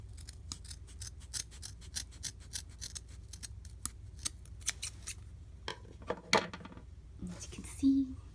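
Scissors snipping through tulle loops, a rapid series of short crisp cuts close by, followed by a few louder handling rustles and faint whispery sounds.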